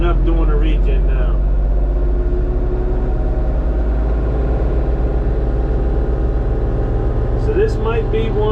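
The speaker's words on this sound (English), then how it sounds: "It's revving up doing a regen now." An LS tractor's engine holds a loud, steady high-idle drone during a manual exhaust regeneration, continuous and close throughout, with a brief voice near the start and end.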